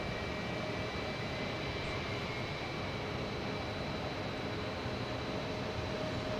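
A jet airliner landing at Boston Logan Airport, heard as a steady, broad engine roar that stays constant and fairly distant throughout, with no voices.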